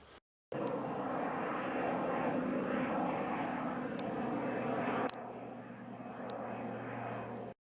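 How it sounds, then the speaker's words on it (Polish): A propeller airplane passes overhead during a carp-fishing session at a low-water lake in Jarosławki. Its engine drones loud and steady, then fades somewhat toward the end. No one speaks. "Przeleciał samolot"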